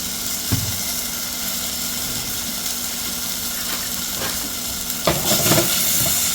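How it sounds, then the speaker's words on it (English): Garlic dropped into a hot pan with onion, giving a continuous sizzle and fry with a few stirring clatters and scrapes. "We're gonna put in some of this garlic."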